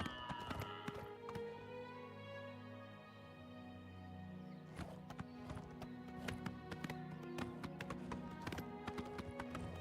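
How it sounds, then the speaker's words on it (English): Horse hooves clopping while riding in the Elden Ring video game, a steady rhythmic run of hoof beats over music, fairly close and moderately loud. "I love riding horses in games."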